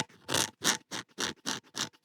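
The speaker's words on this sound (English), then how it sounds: "That's the sound of my nail scraping along the surface." Six quick, rhythmic rasping strokes as a fingernail is dragged along the badly ground, rough sole of a Stanley No.5 jack plane, close and fairly quiet.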